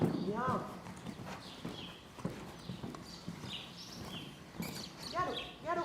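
A horse gallops on the lunge line, its hoof beats a rhythmic clip-clop throughout, with a trainer's voice calling out over the footfalls.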